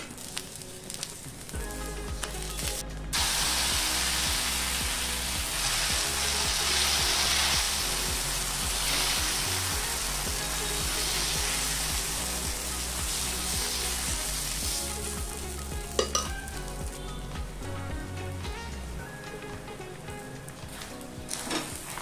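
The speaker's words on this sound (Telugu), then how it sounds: "మరో పెసరెట్ వేసుకుందాము। కొద్దిగా ఆయిల్ వేసేసి" Green gram dosa (pesarattu) sizzles and fries loudly in oil on a hot pan, a steady close crackle holding throughout with a few brief clinks of a utensil.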